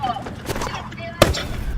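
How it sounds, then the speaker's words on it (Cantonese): A sniper rifle shot rings out in a video game, one sharp, loud crack near the end, amid several quieter gunfire bursts and mixed in with people talking over it. "狙擊槍，狙擊槍"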